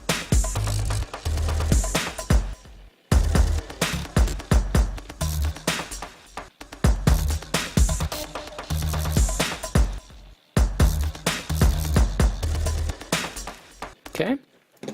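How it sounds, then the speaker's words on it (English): Bass sound resampled through a multi-band effects processor in Ableton Live for psychedelic bass music: choppy, pulsing bursts in four repeating phrases separated by short gaps, loud and heavily processed, with no talking. "I built this little multi-band effects processor,"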